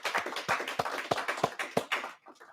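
A small group claps for cum laude students at a school awards ceremony, a short burst of distinct, fairly close handclaps that thins out and stops near the end.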